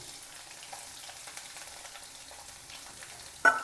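Garlic goes into a pan with cumin over a low flame for tomato chutney, giving a quiet, steady sizzle that suddenly flares into a louder burst of frying near the end.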